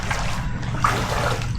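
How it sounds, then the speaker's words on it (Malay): Floodwater pours and trickles into a village house in Kampung Sampun, Kota Samarahan, Sarawak, a close, continuous watery gurgle with a low rumble beneath and small splashy bubbling accents. "Tengok air dia sudah melimpah masuk sudah."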